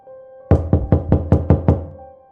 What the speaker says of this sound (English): It starts, as it always does, with a knock at the door, loud and insistent